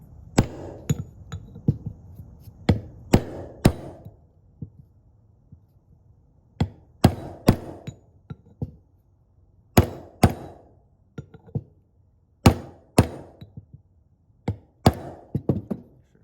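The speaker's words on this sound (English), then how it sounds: "Big socket that fits around the outside as good as it can. And beat on it." A big socket is hammered to drive a PTO seal into a Ford 4000 tractor, heard as close, sharp metallic blows in uneven clusters of two to four strikes, separated by short pauses and ringing faintly between hits.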